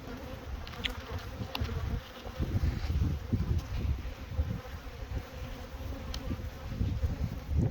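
Bees fly around hives fitted with pollen traps, a continuous close buzzing drone that swells and dips, with individual insects passing near.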